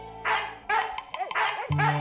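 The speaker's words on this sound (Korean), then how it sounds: "오 진짜로 개가 짖었어" A dog barks several times in short bursts, close and fairly loud, mixed with other brief odd tonal sounds meant to get its attention.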